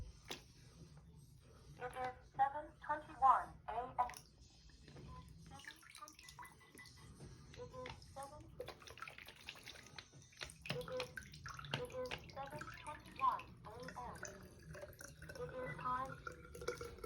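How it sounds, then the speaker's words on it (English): Water runs from a tap into a container, a soft steady pour with drips and splashes, while a person talks over it. "See that water coming up there? It is nearly up there, so we're going to turn it off."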